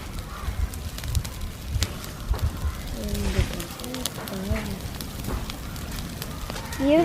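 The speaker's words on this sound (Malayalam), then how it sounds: "തീ കൂടി തുടങ്ങി." A fire of wood and paper burns with a steady, dense crackle and snapping, close and fairly loud, with bird calls and some voices in the background.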